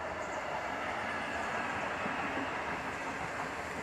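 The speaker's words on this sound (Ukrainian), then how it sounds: "От по широкій їде поїзд." A train passes on broad-gauge track at a railway station in San Sebastián, Basque Country, giving a steady, fairly distant rumbling roar that holds evenly throughout without distinct clacks.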